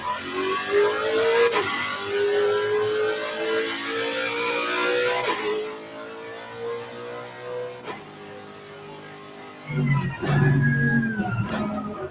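Race car engine in Assetto Corsa Competizione revving hard through gear changes, the pitch climbing and dropping in repeated sweeps, loud and close throughout with a brief lull before another sharp burst near the end.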